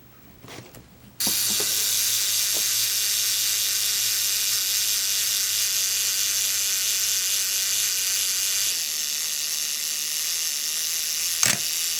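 A steady mechanical whirring buzz runs for about ten seconds after a couple of clicks, then ends with a sharp click: the self-timer of a Minolta XE-5 35mm film SLR camera.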